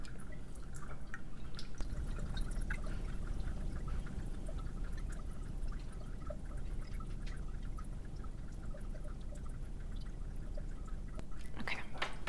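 Water trickling and dripping into a graduated cylinder during a soil permeability lab test, a faint steady patter of liquid against a quiet background.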